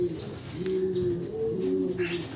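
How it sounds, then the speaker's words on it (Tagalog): Soft, low pigeon cooing repeats in a steady murmur, with faint chirps and light background noise around it. "malakas ang loob ng ibon na to"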